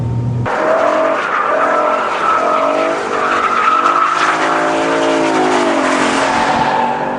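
A Nissan R35 GT-R accelerates hard with paddle-shift gear changes. The engine roars loud and close, its pitch climbing steadily and dipping briefly at each shift, with a tire-squeal edge throughout.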